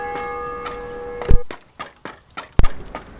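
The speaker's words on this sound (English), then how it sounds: "Such a creepy bell." A bell rings in the video game DayZ during a night raid in Chernogorsk, with a sustained tonal ring fading out and then two heavy, loud low thuds amid scattered knocks and footfall-like sounds.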